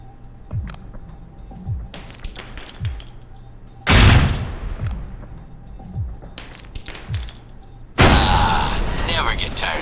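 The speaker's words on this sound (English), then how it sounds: "Try and chuck one beneath the truck and take out the gas tank." In the Alpha Protocol video game on PS3, a grenade blows up a truck's gas tank. Two loud, sudden blasts burst out with a long roaring decay, amid scattered gunshots, and someone talks throughout.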